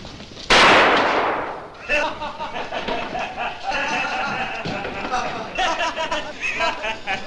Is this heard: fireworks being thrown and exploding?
yes